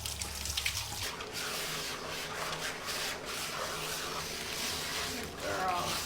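Water pours steadily from a watering can onto a dog's coat during a bath, a continuous splashing rush that runs for several seconds after a short low hum at the start.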